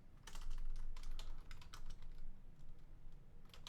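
Steady typing on a computer keyboard at a Linux command line, a fast run of clicky keystrokes in uneven bursts with a few brief pauses, close and fairly loud.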